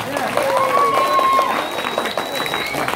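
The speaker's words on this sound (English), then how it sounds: "Let's give a round of applause." Round of applause from a crowd at an Immigrants Day citizenship anniversary celebration, steady clapping over the full stretch with voices and some cheering mixed in.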